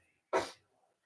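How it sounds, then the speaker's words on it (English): A single short, sharp human sneeze bursts out close and alone, with quiet surrounding it. "He made me sniffle."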